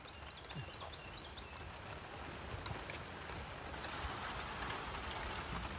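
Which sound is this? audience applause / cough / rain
rain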